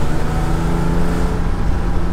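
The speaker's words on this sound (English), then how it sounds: "The engine is willing and revvy, and it just sounds amazing. Listen to that." A Porsche 911 Carrera RS 2.7 engine runs loud and close at high revs, a dense, steady mechanical roar with no talking.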